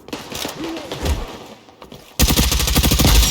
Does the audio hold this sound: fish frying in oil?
no